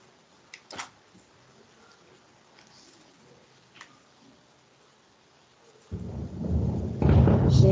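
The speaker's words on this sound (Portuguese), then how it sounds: "é cada trovoada que eu tô começando a ter medo" Thunder during a storm, starting as faint clicks and distant pops, then swelling into a loud, deep, rolling rumble over the last two seconds.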